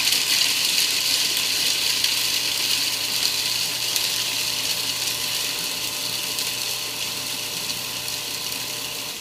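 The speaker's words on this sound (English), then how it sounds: "I'm just going to turn that food processor." A food processor runs steadily as it purees garlic into a pesto base, giving a loud, continuous whirring with a gritty, rattling texture throughout and no talking.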